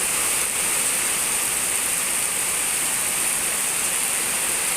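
A thick, unbroken wash of heavy rainfall hisses nearby, steady and loud throughout without any letup or change in intensity.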